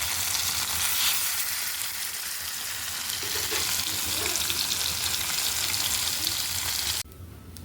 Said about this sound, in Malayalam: അപ്പോൾ നമ്മൾ ചാളമീൻ പൊരിച്ചു,